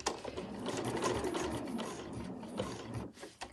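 A domestic sewing machine stitching a fabric sewing machine cover runs steadily for a few seconds with a fast mechanical whir, then slows and stops briefly before a couple of short bursts near the end.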